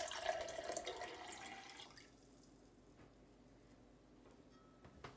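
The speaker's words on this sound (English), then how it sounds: "So this first one, I'm going to add cold water." Cold water poured into a glass holding a spoonful of sugar, a soft splashing pour for about two seconds that fades to quiet dripping and faint room noise.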